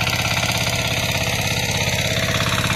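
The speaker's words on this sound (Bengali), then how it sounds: "আপনি মিনি পাওয়ার টিলার দিয়ে আপনার জমির সমস্ত জায়গায় আপনি সুন্দরভাবে চাষ করে নিতে" A mini power tiller engine idling in a farm field, a steady, loud mechanical chug with an even pulsing rhythm and no pauses, close by and without talk.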